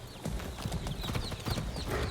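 A horse's hooves clip-clop in the video game Far Cry 6, a quick steady run of fairly close, muffled hoof strikes over a low rumble.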